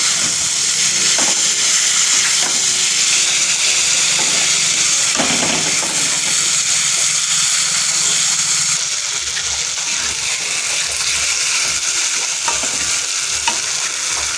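Chopped banana flower and potatoes are stir-fried in a hot pan with spices for a Bengali prawn dish, giving a loud, continuous sizzle and hiss broken by occasional scraping stirs of the spatula.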